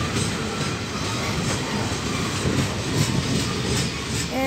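A freight train rumbles past close by, steady broadband roar with faint rhythmic clacking of wheels over the rails throughout.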